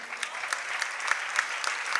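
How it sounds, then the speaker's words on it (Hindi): An audience at an indoor religious gathering in Indore claps continuously, a dense, even patter of many hands with sharper individual claps standing out, moderately loud and without voices. "बहुत ज़्यादा तालियां।"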